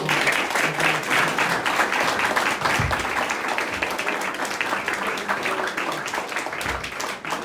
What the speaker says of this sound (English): if you guys can give them a round of applause